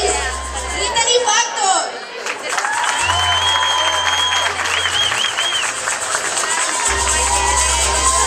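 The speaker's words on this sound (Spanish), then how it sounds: "Con otro aplauso recibimos a la modelo y candidata número 6" Audience applause welcoming a quinceañera model and pageant candidate at an expo opening, continuous loud clapping and crowd noise with cheering, chatter and a voice talking over it, plus a low music thump in places.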